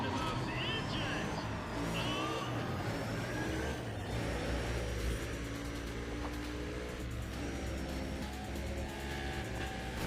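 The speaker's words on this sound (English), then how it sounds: "Listen to those engines." Racing car engines in the Need for Speed ProStreet video game roar and whine continuously at high volume over a full dense mix, with someone talking over them.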